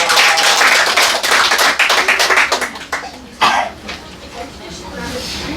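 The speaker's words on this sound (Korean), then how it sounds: "우리 하나님께 영광 박수 올리겠습니다." A church congregation claps together loudly and fairly close, in dense rapid claps that thin out and die away after about three seconds. Scattered coughs and murmuring voices follow.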